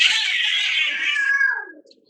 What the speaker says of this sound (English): That's a cat in the background.